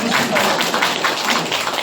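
An audience claps together in applause at a Korean character-education centre, a steady, dense patter of hands lasting under two seconds.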